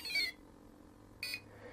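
RC battery saver sounding its short descending musical beep, a brief bright electronic tone, then silence and a second short beep about a second later, close and clean.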